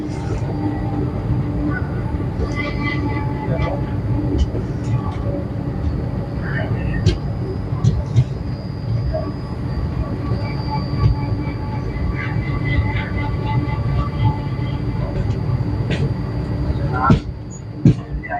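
Steady low rumble of a moving Indian Railways train heard from inside a second AC coach, with occasional clanks and rattles; faint voices talk beneath the noise.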